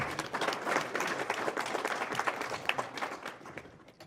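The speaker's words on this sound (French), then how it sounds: "Donc on applaudit très fort pour eux." A hall audience at a Guinean diaspora council assembly gives sustained applause, a fairly faint but dense patter of many hands that gradually tapers off toward the end.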